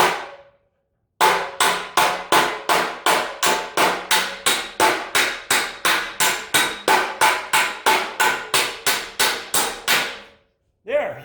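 A hammer strikes a dolly behind a dented fender in a fast, steady series of loud metallic blows, about two per second, briefly pausing and then resuming.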